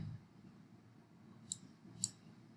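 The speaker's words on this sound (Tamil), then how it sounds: "இப்போ நான் தங்கிலீஷில் டைப் பண்ணுறேன்" Two faint, isolated key clicks on a computer keyboard, about half a second apart, over quiet room hiss while Tamil text is typed.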